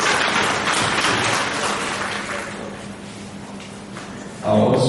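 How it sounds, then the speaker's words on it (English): A crowd at a workshop dissemination event claps steadily for several seconds for a project member invited to the high table, with voices mixed into the dense patter before a louder burst near the end. "A round of applause."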